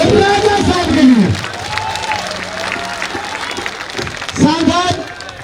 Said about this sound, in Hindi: एक बार जोरदार ताली बजा दीजिए राजा साहब के लिए